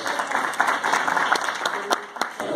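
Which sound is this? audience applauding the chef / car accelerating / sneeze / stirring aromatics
audience applauding the chef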